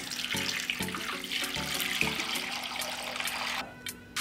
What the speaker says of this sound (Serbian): Zatim ću naliti vode do visine poklopca.